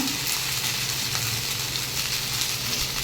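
Masala spices fry in hot oil as they are stirred in a pan, giving a steady, close, loud sizzle that hisses evenly throughout without pause.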